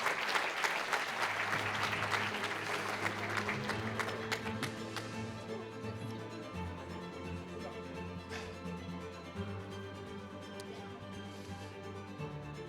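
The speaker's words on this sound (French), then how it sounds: "Et vous pouvez les applaudir." Audience applause fills a conference hall at a healthcare event, steady dense clapping starting strong and tapering slightly over the length, with no talk over it.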